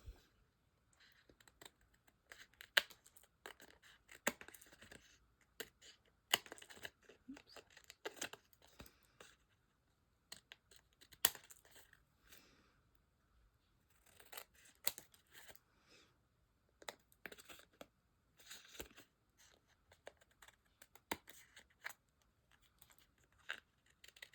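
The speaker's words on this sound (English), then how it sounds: "I'm just going to turn this over and I'm going to cut all our little strips off." Scissors cut paper strips off a handmade card, producing irregular bursts of crisp snipping and rustling clicks separated by short quiet gaps, close and moderately loud.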